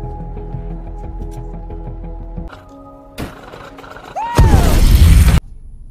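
A moderate explosion bursts out when hydrazine is ignited in a film scene set on Mars: a sudden, loud roaring blast of a second or so that follows quieter music and mechanical clanks, then cuts off abruptly.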